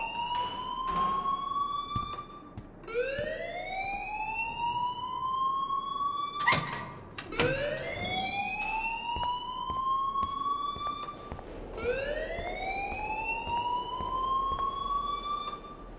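A school fire alarm in the game Life is Strange wails in repeated rising sweeps, each climbing then holding, with a sharp knock or two in the middle and no one talking.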